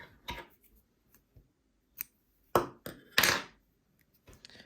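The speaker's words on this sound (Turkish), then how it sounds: "Şöyle zincirimi de yaparak ipimi kesiyorum." Scissors snip through crochet yarn while a headband is being finished, giving a few sharp, close cuts spaced irregularly, with the loudest snips coming in a quick pair near the middle.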